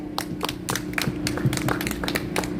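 A small audience at a street rally outside the People Power Party headquarters gives light, scattered hand claps, individual claps distinct and uneven, close by and with no talk.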